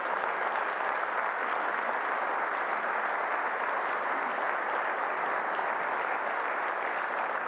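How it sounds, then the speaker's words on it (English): A large crowd at a chamber of commerce luncheon applauds continuously, dense and sustained clapping at an even level throughout. "Give them a round of applause."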